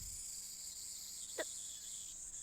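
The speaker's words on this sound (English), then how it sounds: "The only sound is the chirping of cicadas." Cicadas drone in a continuous, shrill, even chorus, with one brief click partway through and no voices.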